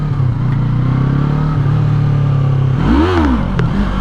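A 2020 Yamaha MT-03 motorcycle engine drones loudly at close range, then surges and revs up sharply as the rider accelerates hard in second gear to try lifting a wheelie.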